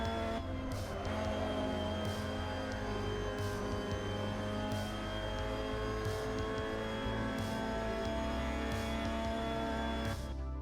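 Mazda MX-5 Cup race car in the Assetto Corsa racing game at Autodrom Most, its engine droning steadily with layered harmonic whine while cornering, punctuated by regular brief clicks, no voices over it.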